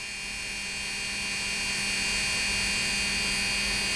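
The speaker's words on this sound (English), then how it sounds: "Listen to the motor." An optimized PFAFF 332 sewing machine motor runs with a steady, even hum and buzz, holding a constant level throughout with no fluctuation and no voices.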